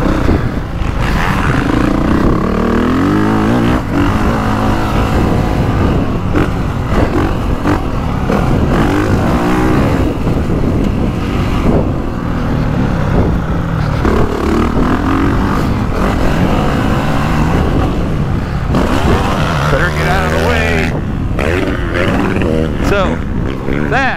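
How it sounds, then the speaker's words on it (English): Honda CRF450R motocross bike, a 2025 model, taking a slow lap of the Briarcliff A-track, its engine revving and roaring up and down close by for the whole stretch, with a voice talking over it. "A slow lap around the Briarcliff A-track on my new CRF 450"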